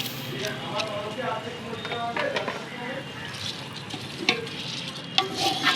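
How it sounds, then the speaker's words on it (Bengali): Rice, lentils and mixed vegetables fry in a pot for khichuri, with a steady sizzle and scraping stirs, and a voice talks over the cooking throughout. "সবজি, চাল, ডাল সব ভালো করে ভেজে নেব।"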